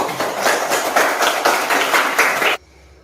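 Classroom students applaud together in a loud, dense burst of clapping that holds steady for a couple of seconds and then stops abruptly, leaving near silence.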